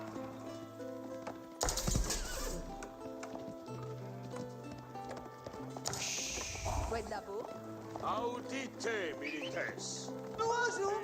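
Royal Knights cavalry horses in Age of Empires 4 gameplay, with clip-clop hoofbeats and neighing among layered game sounds and music tones, heard at moderate level.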